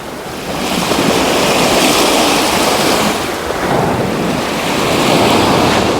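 Waves break steadily on the Black Sea shore, a loud continuous wash of surf with gusty wind buffeting the microphone and no voices.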